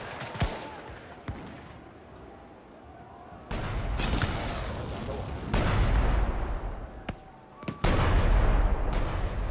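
Cannon fire booms in Shadow Tactics, a feudal Japanese stealth game, as several loud blasts go off at irregular intervals, rumbling over battle ambience with scattered sharp cracks and distant voices.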